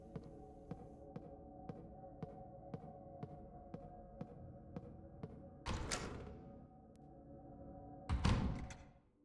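Elevator in the Tormented Souls video game gives a steady low hum with evenly spaced soft thumps, then two louder rumbling clanks near the end, with no talk.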